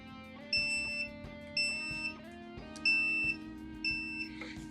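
Continuity beeps from a multimeter on its audible setting while checking guitar shielding, four steady tones about a second apart, each lasting roughly half a second, over a low background hum.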